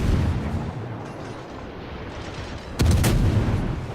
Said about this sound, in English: Little salute fire.